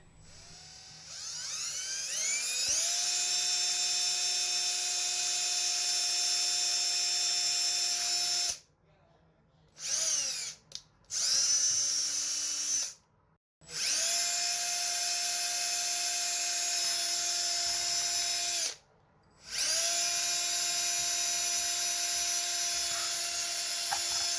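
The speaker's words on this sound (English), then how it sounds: "you want me to put some holes in that?" A high-pitched drill whines in long bursts, boring holes in a plastic soap dish, spinning up and stopping several times with brief pauses between runs, close and loud.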